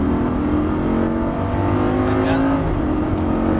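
Lamborghini Gallardo LP560-4 accelerating at full throttle on the Circuit de l'Ouest Parisien, a loud, close engine roar climbing in pitch, with an instructor talking over it.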